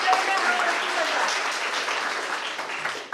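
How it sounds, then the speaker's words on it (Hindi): Guests at a national seminar in an Indian college hall are welcomed with audience applause, steady clapping that tapers off, with a voice speaking briefly over the start. "सभी लोग तालियों से स्वागत करते हैं।"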